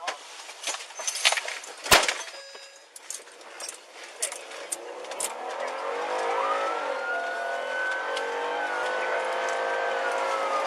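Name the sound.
car speeding off in police chase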